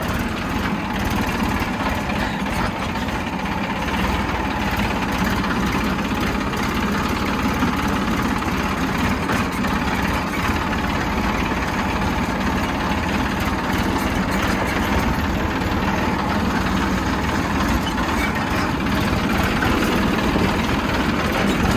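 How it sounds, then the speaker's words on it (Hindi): A tractor engine runs continuously at a steady idle, loud and close with a low, dense rumble and constant vibration, no voices over it. "आज हम ट्रैक्टर की सवारी कर रहे हैं"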